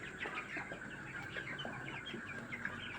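Broiler chickens in a poultry shed make a dense, continuous chorus of faint overlapping clucks and chirps, steady throughout with no talking.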